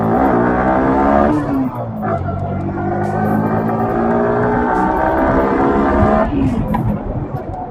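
Yamaha R15 V4 motorcycle pulling hard in a sudden pickup, its engine note climbing steeply through the gears with sharp rising harmonics, loud and close throughout.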